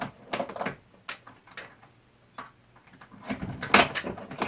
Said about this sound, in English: Unlock the lock.